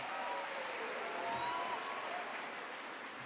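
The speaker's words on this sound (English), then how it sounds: "Each year, you can applaud." Steady applause from an audience at the 34th annual Pathfinder Awards ceremony, a dense continuous wash of clapping at moderate level for a few seconds with a faint voice briefly audible.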